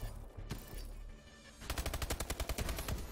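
Rapid automatic gunfire in a multiplayer shooter game, a burst of evenly spaced sharp shots rattling for over a second after a quieter stretch, loud and close with no voices over it.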